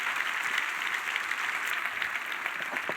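A church congregation applauds the Lord during a Sunday service, a continuous even patter of many hands clapping at moderate loudness, with no voices over it.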